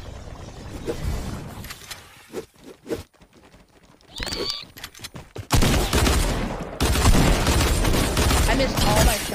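Gunshots in Fortnite, an irregular run of loud shots separated by brief gaps, then heavier sustained firing toward the end, with some game noise between bursts.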